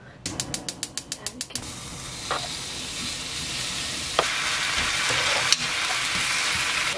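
Frozen minced garlic hits a hot pan for rosé braised chicken, starting a steady, close sizzle after a quick run of ratcheting clicks, with a few sharp clinks of a utensil against the pan.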